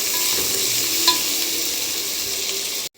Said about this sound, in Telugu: ఇప్పుడు ఇవి బాగా నూనెలో పచ్చివాసన పోయే వరకు వేయించుకోవాలి